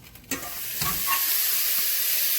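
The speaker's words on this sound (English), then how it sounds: "start frying the curry a little bit before we add the goat to the pot." Curry powder sizzles and fries in a hot pot for Jamaican curried goat, a steady hiss that builds after a few soft stirring clinks at the start.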